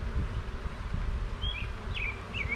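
Honey bees hum low and continuously around an open hive being worked, a close, steady drone, while a few high bird chirps break in over it toward the end.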